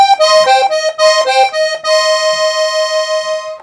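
Treble reeds of a Hohner Starlet piano accordion, 26 keys with two reeds tuned MM, play a short run of bright, buzzy notes, then hold a long sustained chord that fades at the end; no talking.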